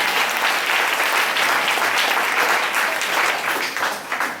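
A church congregation at a French-language evangelical service breaks into steady, dense applause and cheering that fills the room, loud and continuous throughout.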